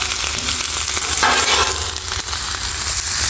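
Cabbage sizzling on a hot flat-top griddle: a steady, close, broadband hiss with crackle that swells for a moment partway through, with no talking.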